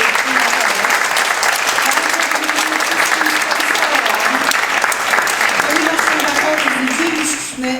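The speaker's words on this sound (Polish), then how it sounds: "bardzo dziękuję, ogromne oklaski" Loud, sustained applause from an audience at a festival for people with disabilities, steady clapping filling the hall throughout and tapering slightly at the very end, with faint voices mixed in.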